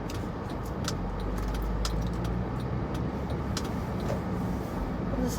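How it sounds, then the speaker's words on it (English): A car speeding past in a shopping-centre parking lot, heard as a steady broadband road rumble with light rattling and clicks, moderately loud and continuous without a clear rise and fall. "One last car zipping up fast."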